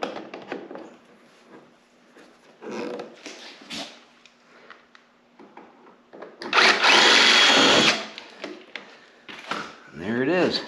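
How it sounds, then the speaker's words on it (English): A power drill bores out a rivet deep inside a 2020 Ski-Doo XRS G4 wide-body snowmobile, running in one loud whining burst of a second or so amid quieter clicks and handling noises, with someone talking before and after. "I have to drill this rivet out way down inside"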